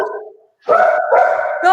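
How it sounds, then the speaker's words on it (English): A pet dog gives a short, loud, tonal bark close up, a brief vocal burst followed by a sustained, drawn-out yowl. "There's my dog."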